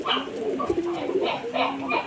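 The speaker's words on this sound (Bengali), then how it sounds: "এই নটটা আমার বাড়ির অনেক ফেমাস পায়রা গোল্ডেন আইস" A male Madras pigeon with golden eyes and blue-green plumage coos in Kolkata, making a close, repeated series of soft throaty coos in a rolling rhythm.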